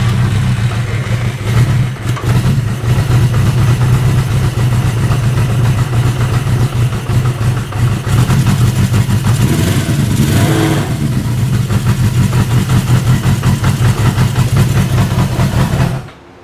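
A Honda CB550 motorcycle engine fires up for its first start after a build, idling steadily and loud up close with a few throttle blips, running continuously before cutting off at the end.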